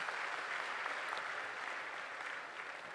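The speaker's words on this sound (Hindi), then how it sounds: "जोरदार तालियां बजा करके उनका सम्मान।" An audience at a saints' gathering at the Maha Kumbh in Prayagraj claps steadily to honor Chidanand Muni, a continuous, even wash of many hands throughout, somewhat distant and not especially loud.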